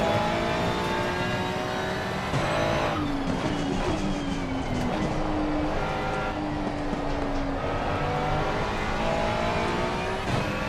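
A Ferrari race car in a racing video game at Spa-Francorchamps drones loudly and steadily, the engine pitch climbing and falling through gear changes, close and continuous with no talk.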